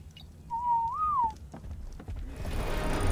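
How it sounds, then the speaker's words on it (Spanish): A player in ARK Survival Evolved whistles a command to a tamed dinosaur: a single clear whistled note that rises and falls over about a second, over low game background noise and faint clicks. "Ahora le silbas y le dices parar todo."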